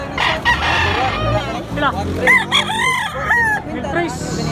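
A rooster crows loudly and close by in one long, rising and falling call in Tabunok, Cebu, while someone speaks briefly over it.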